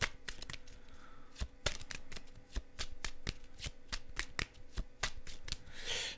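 Tarot-style fortune-telling cards are shuffled by hand in a quiet room, giving a long run of quick, crisp riffling slaps in an uneven rhythm, close and moderately loud, with no talking.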